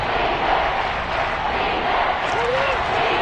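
A football stadium crowd roars loudly and without a break ahead of a big third down. A broadcast voice talks over the dense, distant-sounding cheering.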